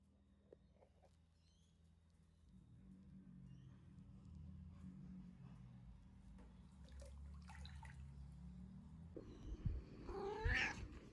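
A cat lets out a loud meow near the end, following quiet rustling and low background noise.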